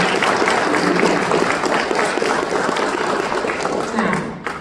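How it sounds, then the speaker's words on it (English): An audience breaks into sustained applause for its leaders, a dense wash of clapping that stays loud and steady throughout before tapering slightly at the very end. "So let's give our leaders a round of applause."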